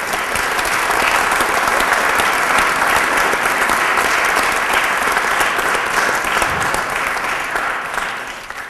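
Loud, dense applause from a crowd honoring Eagle Scouts at a Troop 353 Court of Honor sustains for nearly nine seconds before tapering slightly at the end.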